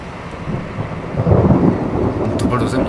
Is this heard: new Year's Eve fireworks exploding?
no